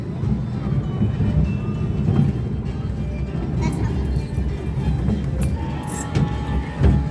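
A ride-on amusement train rumbles steadily along with a low, continuous rolling noise, with occasional clicks and knocks over it.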